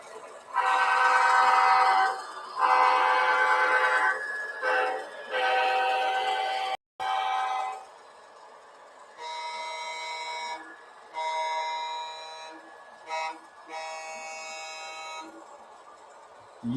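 Horn of a model train sounding for a grade crossing on a small loft layout: long, loud blasts in a repeating pattern with brief gaps, close and clear, with no talking over it.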